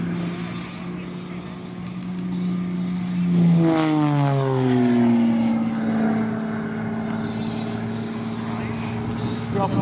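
Propeller aerobatic airplane at the EAA AirVenture 2022 airshow in Oshkosh, Wisconsin, its engine droning steadily then sliding down in pitch as it pulls away and climbs, loud and continuous with an announcer talking over it.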